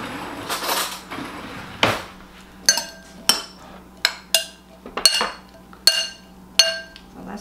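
A spoon clinks and knocks against a dish while a simple salad is mixed, sharp metallic taps repeating roughly every half second after a few softer scrapes, close and clear in a quiet kitchen.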